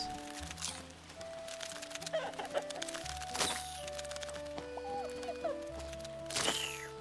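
Chickens in the video game Luma Island cluck in short scattered bursts over looping game music and ambient tones, fairly faint and repeating.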